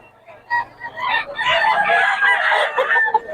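Chickens and roosters at the Bocaue poultry market, with a rooster crowing and hens clucking in a dense, loud chorus alongside general market commotion.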